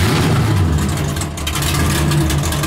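An 850hp naturally aspirated V8 in a Nissan S15 drift car revs hard and loud up close, a dense roaring engine note holding high with a brief dip midway, no voices over it.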